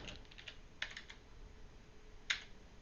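A computer keyboard clicks quietly, with a few sparse, light keystrokes over a soft background hiss.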